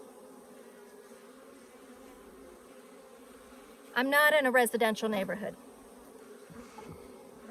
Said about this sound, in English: Africanized bees are unpredictably defensive.